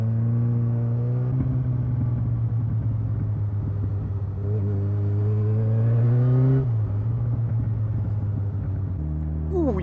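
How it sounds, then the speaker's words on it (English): A car accelerating hard on grippy tyres, its engine note climbing in loud, steady pitch sweeps that drop and rise again as it shifts, with a continuous low rumble throughout and no voices. "Now these tyres have got some grip in them."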